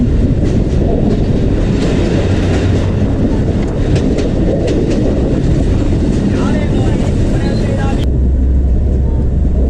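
Loud, steady rumble and rattle of a train ride through Yangon, Myanmar, with continuous clattering wheels and wind noise close around, and voices faintly present under the roar.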